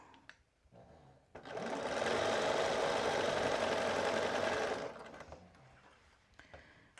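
A sewing machine runs steadily for about three and a half seconds, stitching a dress strap, with quieter handling noise before and after the burst of stitching.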